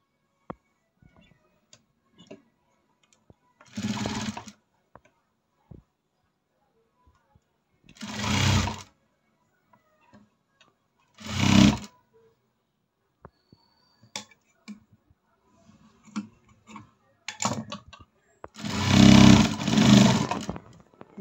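A sewing machine stitching a blouse runs in four short bursts, each under a second long, separated by pauses with faint clicks and fabric handling. The last burst is the loudest.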